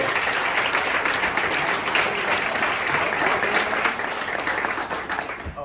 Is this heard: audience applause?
yes